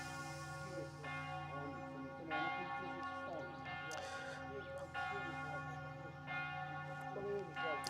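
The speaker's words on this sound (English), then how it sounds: "Will this bell stop?" Church bell ringing in repeated strikes, loud and resonant, with long ringing overtones that overlap each other through the whole stretch.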